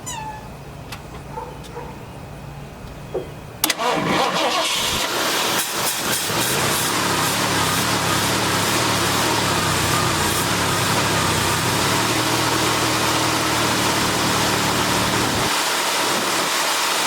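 A 1973 Ford Torino Sport fastback that sat three years with bad gas starts abruptly after a quieter lead-in, then holds a loud, steady engine roar for about twelve seconds before cutting off.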